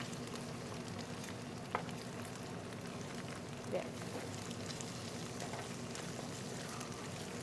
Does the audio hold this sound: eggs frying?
yes